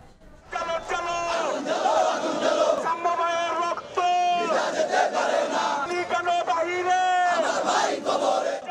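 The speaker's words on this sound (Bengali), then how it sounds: "কয়েকদিন ধরে স্লোগানে উত্তাল ঢাকা বিশ্ববিদ্যালয় ক্যাম্পাস।" A crowd of students on the Dhaka University campus chants protest slogans in loud, rhythmic call-and-response, many voices in unison, continuous and close.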